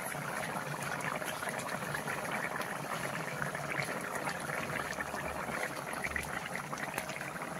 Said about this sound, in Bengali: চাল কুমড়োর তরকারিটা ফুটে উঠেছে।